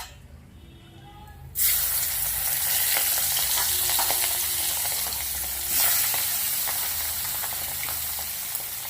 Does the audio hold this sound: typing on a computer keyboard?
no